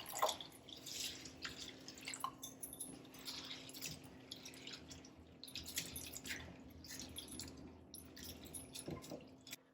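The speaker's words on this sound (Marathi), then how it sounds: "1 कप मी जाड पोहे घेतलेले आहे आणि त्याला स्वच्छ पाण्यामध्ये धुवून काढायचे आहे" Thick poha (flattened rice) is rinsed in clean water, giving soft, irregular drips, splashes and swishes at a moderate, close level with no talking.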